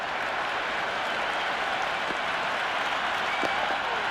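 Stadium crowd in the Cricket 26 video game during an ODI World Cup match, a broad steady wash of applause and cheering that fills the clip at an even level with no break.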